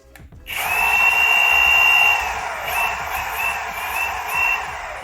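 An Evolve GT electric skateboard being switched on after a 36V battery install, its motor starting abruptly and running as a loud steady electric whine with a pitch that wavers slightly, no talking.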